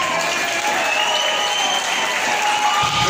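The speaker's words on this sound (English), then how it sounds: "So please give them a big round of applause." A crowd applauds a band loudly and continuously, with close, dense clapping and cheering that fills the room.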